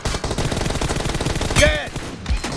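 Rapid gunfire bursts from the battle royale game BGMI crackle in quick repeated volleys across the whole stretch, loud and close, with a sharper crack and ringing tail near the middle.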